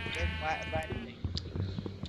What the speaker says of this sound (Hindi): अरे ओए भेड़ों को ना छू भी मत लियो।